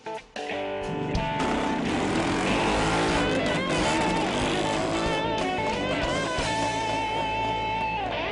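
A motorcycle engine runs steadily at close range while riding, its droning pitch shifting as it revs and settles, with no voices over it.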